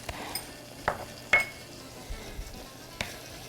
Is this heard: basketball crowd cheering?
no